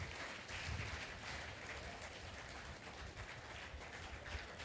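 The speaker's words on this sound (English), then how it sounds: "Please give a huge round of applause." Applause from a conference audience at a sustainable polymer event, a steady wash of many hands clapping that fills the whole stretch at moderate distance with no voices over it.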